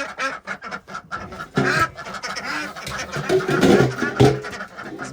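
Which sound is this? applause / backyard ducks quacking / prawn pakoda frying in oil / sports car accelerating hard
backyard ducks quacking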